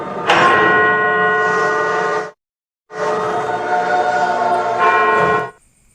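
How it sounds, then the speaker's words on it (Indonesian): A large bell rings twice in an action film, with long, resonant tones, each strike humming and fading before the next, loud and close with no voices. "ada suara lonceng yang merupakan isyarat agar pasukan iblis keluar"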